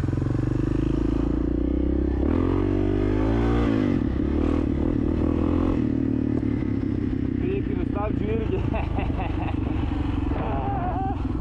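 An enduro motorcycle engine runs steadily up close, its low rumble with occasional revs and some clattering, continuous throughout.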